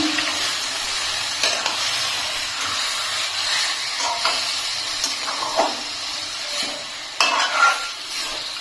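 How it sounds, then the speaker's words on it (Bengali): Marinated green coriander chicken stirred in a hot pan, with steady hissing sizzle and repeated scraping strokes of a spatula at an irregular pace, close and clear with no voices. "এখন চিকেনটাকে ভালো করে একটু নাড়িয়ে নেব।"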